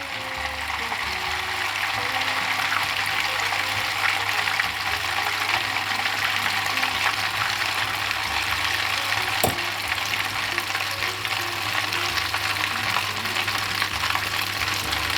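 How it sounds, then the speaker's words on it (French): Butter (soy-based) heating in a pan, giving a steady, continuous sizzle and light crackle that holds at an even level throughout, close and fairly quiet, with no voices. "Donc là notre beurre il va commencer à cuire légèrement"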